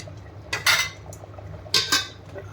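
A spoon scrapes and clinks against a pan twice while kasuri methi is stirred into a katla fish curry, two short metallic bursts over a low, steady kitchen background.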